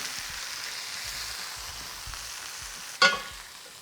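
Onion and ginger sauté in a hot pan, giving a steady, even sizzle throughout with a sharp utensil clatter near the end.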